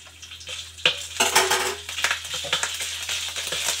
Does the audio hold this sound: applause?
no